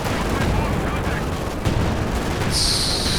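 Sector artillery barrage in Company of Heroes 2, a dense continuous rumble of shell fire and explosions throughout, loud and close, with a brief high whistling layer near the end.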